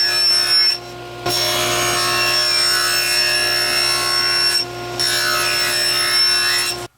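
Scrap plexiglass is sawn into strips 1.25 inches wide, a steady, close, continuous rasping cut that runs nearly throughout with two brief pauses, and no voices.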